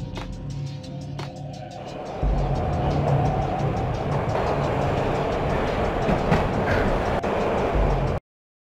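A train ride in the video game Max Payne: a steady, loud rumble of wheels on track with rhythmic clickety-clack, preceded by quieter mechanical clanks before the noise swells.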